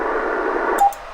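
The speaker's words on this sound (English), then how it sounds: "But that's Morse code." A Kenwood TS-570D HF transceiver sounding Morse code as a steady, loud tone that ends abruptly, followed by brief clicks and quieter static.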